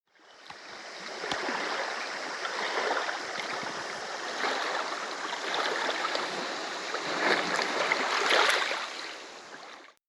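Steady broadband wash of water sloshing and lapping, like a small boat moving through choppy water, continuous and fairly loud with a few brief knocks.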